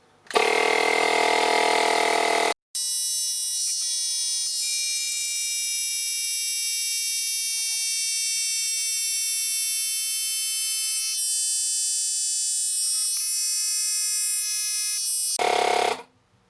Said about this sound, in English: The tyre will be pumped to 32 PSI each time.